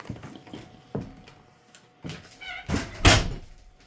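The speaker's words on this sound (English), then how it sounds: "So we open this nice wide door." The wide entry door of a 2026 Coleman 13R compact travel trailer, with several clicks and light knocks followed by a louder thudding close near the end, up close.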